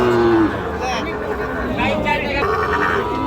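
Sahiwal bulls and calves moo at a busy cattle market in Joypurhat, Bangladesh: one low drawn-out call near the start, then fainter lows amid crowd babble and people talking close by.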